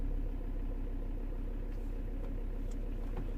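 A Volvo V70 D3 2.0 diesel engine, recently fitted with a new turbo and EGR valve, runs steadily with a constant low rumble and no one talking.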